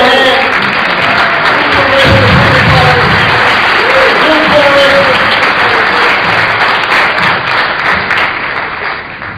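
Audience applause fills a large hall at a live Cornel West speaking event, steady loud clapping with crowd noise throughout, tapering slightly near the end.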